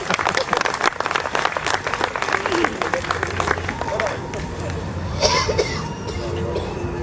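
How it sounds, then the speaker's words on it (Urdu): An audience at a literary event in Dubai breaks into applause, dense clapping at first that thins out, with coughs and some murmured voices mixed in. "تالی بجاتے رہیے، کچھ تو گرمائی آئے گی۔"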